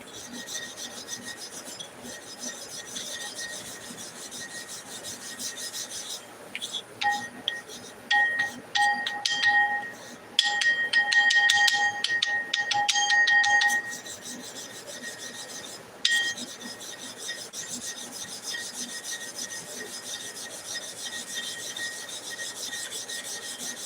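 A Lister large-animal clipper blade is ground across a wet grit plate, giving a steady close rasping scrape throughout, with louder, harsher bursts of grinding partway through.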